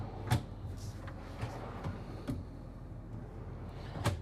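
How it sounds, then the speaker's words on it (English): Full-extension glides on the pantry drawers of a 2025 Renegade XL 45 DBM motorhome give several short, sharp clicks and knocks as drawers open, close by and fairly quiet. "These are full extension drawer glides for the pantry."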